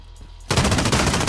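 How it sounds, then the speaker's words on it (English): Rapid automatic gunfire from a Modern Warfare match bursts in abruptly after a brief quiet moment and continues as a loud, dense rattle of shots. "Dude, stop shooting me"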